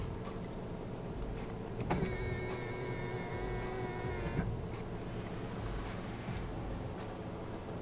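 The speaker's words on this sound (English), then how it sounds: "Power folding side mirrors." Power folding side mirrors on a 2015 BMW Z4 sDrive20i whir as their motor runs for about two and a half seconds, a steady electric hum rising from a quiet cabin and stopping with a soft click.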